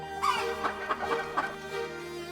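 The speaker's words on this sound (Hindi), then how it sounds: "माय डियर मुर्गी" Repeated soft clucking from a hen, several short bursts over a steady background hum, fairly close.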